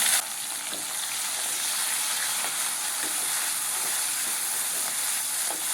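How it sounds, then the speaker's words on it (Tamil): Onions and tomatoes sauté in hot oil for a green turkey berry (sundaikkai) kuzhambu. An even, continuous sizzle holds throughout with faint occasional stirring taps, close up and without speech. "தக்காளி பார்த்தீங்கன்னா அந்த எண்ணெயிலேயே நல்லா வதக்கணும்"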